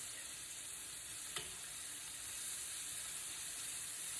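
Crawfish frying in very hot grease: a steady, dense sizzle and hiss continues throughout, with one brief clink partway through and no talking.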